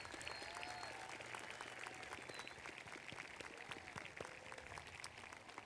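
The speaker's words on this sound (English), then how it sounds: "Audience, please join me in applauding all that they do to support our students." Soft, distant applause from a large audience fills the hall at the Harlingen High School South 2019 graduation, a steady patter of many hands with no speech.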